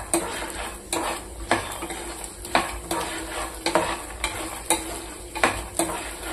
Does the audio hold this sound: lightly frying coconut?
yes